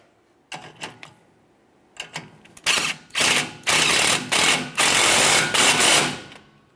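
A ratchet drives a 13mm bolt into a bracket on a 2014-2018 GMC Sierra 1500, starting as a few short clicks and building into longer bursts of rapid, close metallic clicking.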